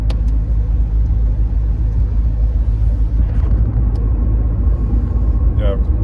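A 1991 Mercedes-Benz 190E 2.0 cruises at about 30 mph, its steady low engine and road rumble filling the cabin without a break, with a faint voice and small rattles heard inside.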